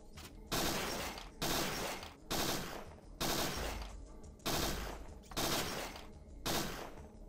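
About seven single gunshots ring out at a shooting-range target in the PS1 game Parasite Eve 2, evenly spaced roughly a second apart, each a sharp loud crack with a short decaying tail, no talking.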